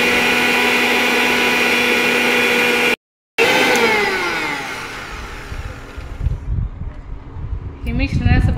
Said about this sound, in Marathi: हे सगळं मिश्रण आपण बारीक करून घेऊ।